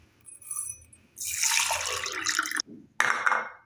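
Fenugreek water poured in short bursts, a splashing stream that starts, runs for over a second, stops briefly and resumes, close and clear with no talking.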